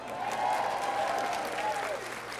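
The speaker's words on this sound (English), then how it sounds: "you can give them a round of applause" An audience applauds at a 2019 graduate commencement ceremony, a dense, steady clatter of many hands that swells and then eases slightly, with a voice speaking over it.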